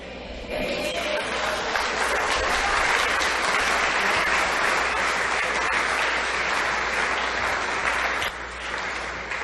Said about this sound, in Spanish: Gracias por aplaudir.